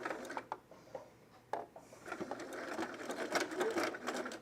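A home sewing machine stitches a buttonhole, its rapid mechanical needle chatter starting in short bursts then running steadily, close and moderately loud.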